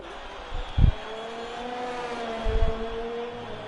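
Race car engine in a sim racing league session at the Hungary circuit, a steady droning whine with pitch shifts through the final corners and a couple of short low thumps, moderately loud, no talk.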